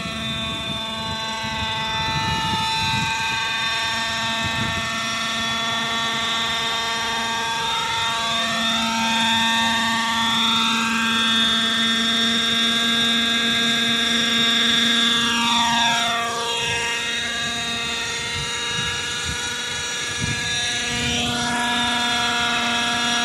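Hirobo Lama RC helicopter with its rotor spinning, a steady close whine with rising and falling pitch sweeps as the rotor head speed is eased lower, loud and continuous throughout.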